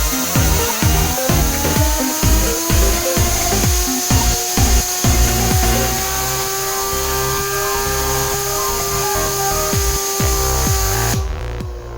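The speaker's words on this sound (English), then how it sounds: "We are going to blow air and measure the top speed of the spinner." A spinner spun by compressed air from a modified compressor winds up, rattling and clicking rapidly before settling into a steady high-speed whirring with a rising tone that cuts off near the end, loud and close.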